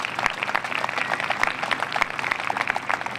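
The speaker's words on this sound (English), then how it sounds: "So please give it up for them because they deserve a good round of applause." An audience applauds, honoring a Lutheran church group and its comfort dogs: steady, moderately distant clapping from many hands, sustained throughout with a faint murmur of the crowd beneath.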